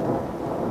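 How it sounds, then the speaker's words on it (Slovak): Low rolling thunder from an approaching storm rumbles continuously and fairly loud throughout, with no other sounds. "Bude búrka."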